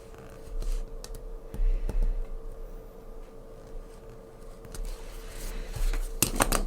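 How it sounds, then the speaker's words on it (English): A craft knife trims paper scraps while decorating a winter journal, making scattered short clicks and light scraping strokes over a low steady hum, with a quick cluster of sharper cuts near the end. "Now we'll use a craft knife."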